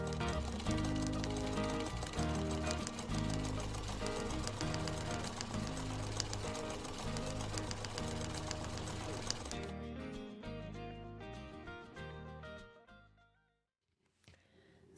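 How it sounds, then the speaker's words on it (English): A sewing machine sews a jelly roll quilt block, running with a steady mechanical rattle for several seconds, then slowing and fading to a stop near the end. "So let's get sewing."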